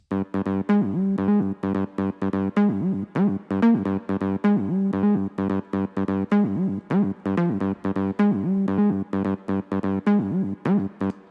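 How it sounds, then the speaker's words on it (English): A buzzy monophonic acid synth line pulses in a repeating staccato pattern, notes gliding and squelching in a steady loop, alone and fairly loud. "I've created the synth, which sounds like this."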